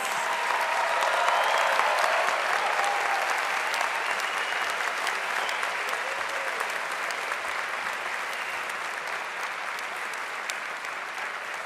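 Sustained applause from a large audience at a graduate commencement ceremony, a dense steady clatter of clapping hands that holds evenly throughout and tapers slightly near the end.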